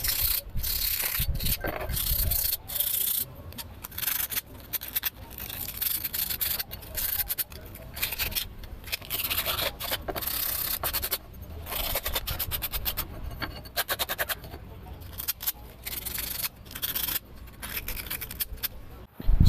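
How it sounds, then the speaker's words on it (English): Sandpaper rubs in irregular bursts over a piece of a Lancer oil catch can, with quiet scraping strokes and small clinks in between. "now I'm going to sand it a little bit"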